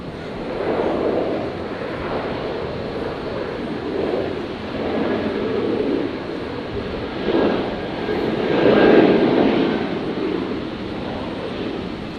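Jetstar Airbus A320 jet arriving at Brisbane Airport from Sydney, a steady broadband engine roar at moderate distance, swelling and fading gently with no voices.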